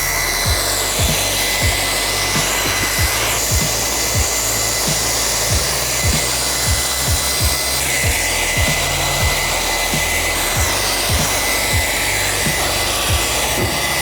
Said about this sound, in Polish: Zeszlifowałem tylko i wyłącznie klej